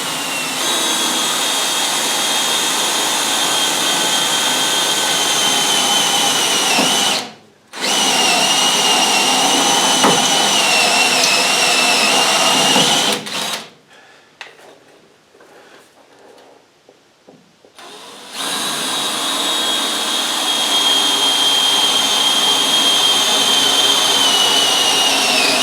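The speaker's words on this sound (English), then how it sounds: "Now to drill some holes." A power drill with a unibit step drill bit whines loudly and steadily while boring holes for LED light brackets, stopping briefly once and then for several seconds before starting up again and running on.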